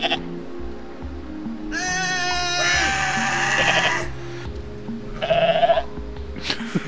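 A goat in the Goat Simulator video game bleats in a few loud, wavering cries, one long and strained followed by a shorter call, over a low game background hum.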